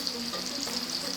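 Seasoned prawns fry in hot oil, a dense steady sizzle heard close and continuous for the whole short stretch.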